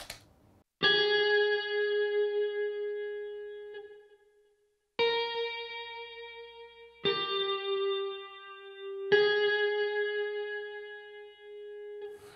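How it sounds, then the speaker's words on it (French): Clean electric guitar notes ring out in several sustained phrases with a lush reverb tail, no voices, separated by brief pauses. "une petite guitare avec une reverb directement, ça fait très fly"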